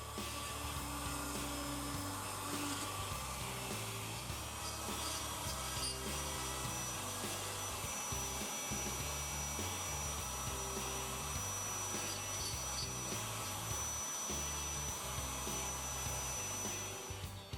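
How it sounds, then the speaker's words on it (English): A steady, grinding drill runs continuously at close range, buzzing and rasping through the plastic fuselage of a 1/72 F-14B Tomcat model kit without pause. "So out comes the drill, and I remove the relevant panels from the fuselage."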